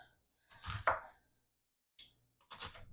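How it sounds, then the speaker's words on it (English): An onion chopped on a board, a few close knife strikes in two short bursts separated by silence. "I'm just going to chop this up and get it into the pan"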